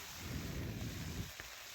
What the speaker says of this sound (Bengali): এখন আমি ধুয়ে ছেঁকে রেখেছিলাম শাক দিয়ে দিলাম